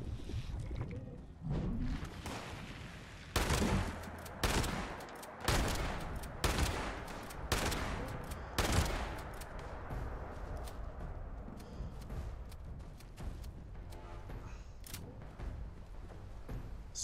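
Enemy gunfire in Fallout 76, with bursts of shots from several weapons in the middle of the stretch before it fades to scattered distant cracks. Loud volleys ring over rumbling background noise.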